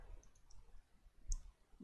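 A single sharp computer mouse click lands near the middle of a quiet stretch at a desk, close and brief, with faint clicks before it and no talking.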